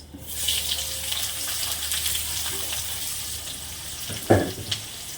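Onion hitting hot oil in a kadai already holding green cardamom, cinnamon and bay leaf gives a steady broad hiss and sizzle, with a few louder crackling bursts near the end.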